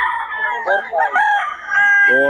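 A bull stag gamecock crows loudly and close at a Bocaue livestock market, a long harmonic call that rises and holds, with a faint voice in the background.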